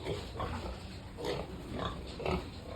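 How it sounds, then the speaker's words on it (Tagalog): Starter piglets in a pig pen squeal and grunt in a cluster of repeated, fairly loud bursts, with steady barn background noise and no talking. "Ito na ang ating mga starter na piglets. Yan, naingay sila."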